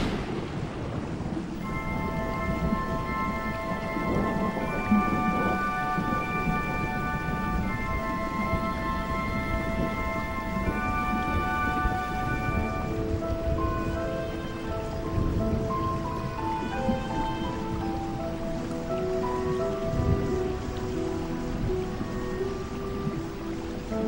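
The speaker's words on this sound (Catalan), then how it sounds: "la pluja que havia estat caient tota la tarda es va transformar en un aiguat infernal" A heavy rain downpour hisses steadily and densely throughout, a thick continuous wash of falling water with low rumbling beneath, while sustained musical tones drift over it.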